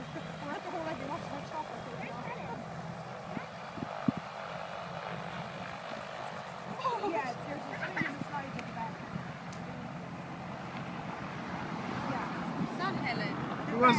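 Helicopter passing over the ruins of Hore Abbey, its steady engine and rotor drone running throughout at moderate distance, with scattered bumps and faint background voices.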